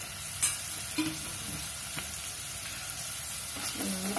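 Masala spices fry and sizzle in a pan with a steady soft hiss, broken by a few light clicks and stirring scrapes, close and moderately quiet.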